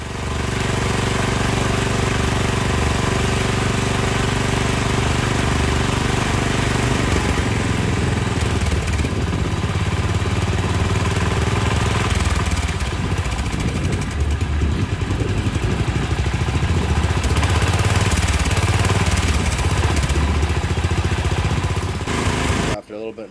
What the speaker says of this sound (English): Now I'm testing the carb as I got it started, but I'm finding the engine to be a little bit non-responsive.